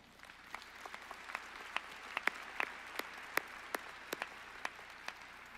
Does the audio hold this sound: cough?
no